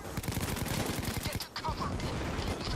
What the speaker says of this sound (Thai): แม่งมายิง ไม่หยุดเลย